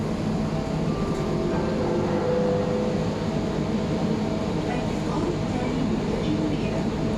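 A Riyadh Metro train runs along the track, producing a continuous low rumble with faint whining tones heard from inside the car.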